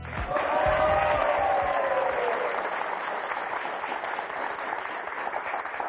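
Television game show studio audience applauding to welcome host Thierry Beccaro, a loud burst of clapping with a rising musical flourish at the start, then sustained dense applause fading slightly, no talk.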